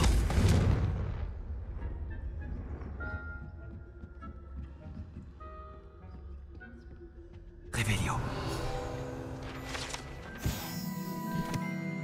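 A Confringo blasting-spell explosion from Hogwarts Legacy starts with a sharp blast, followed by a quieter stretch of faint tones. A second loud, crackling burst then erupts and lingers with clattering debris.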